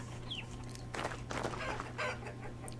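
A chicken clucking in the video game Vintage Story, several short clucks in a loose rhythm over a low steady hum.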